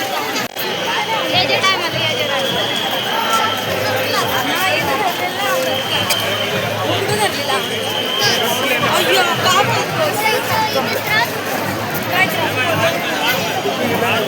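Dense crowd bustle at Dadar, a steady wall of many overlapping voices and movement, loud and continuous throughout with no single sound standing out.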